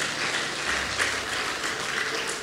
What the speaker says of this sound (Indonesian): tepuk tangan bagi Tuhan kita.